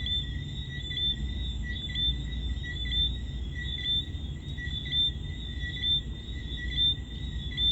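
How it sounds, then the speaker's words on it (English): Crickets and tree frogs at night in Montego Bay, Jamaica, keep up a steady, high insect trill with layered frog chirps pulsing over it, a soft low rumble of distant waves underneath, continuous and fairly loud. "the sound of the waves and the sound of the crickets and the tree frogs"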